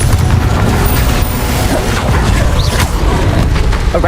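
A Confringo spell blasting in Hogwarts Legacy combat, with loud booming impacts and crashing hits over a dense, rumbling low end that stays busy throughout.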